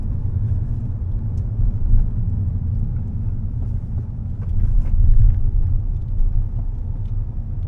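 A car driving toward a roundabout near Lake Lanier, Georgia, a steady low engine and road rumble from inside the cabin with some wind noise, swelling slightly midway, no talking.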